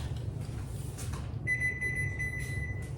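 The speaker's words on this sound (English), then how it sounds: "timer's about to go off" A kitchen timer goes off during baking with a steady, piercing electronic beep tone that starts partway through and holds over a low background hum.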